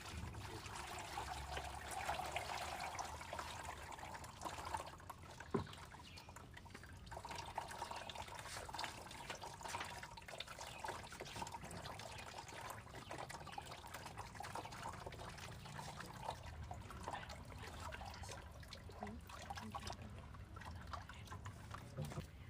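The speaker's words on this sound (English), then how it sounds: "So what we do is that we pour inside the sieve." Wet clay poured through a sieve, a continuous soft liquid trickle and splash with occasional sloshes and knocks, steady and close for the whole stretch.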